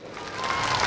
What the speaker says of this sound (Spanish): ¡El aplauso grande!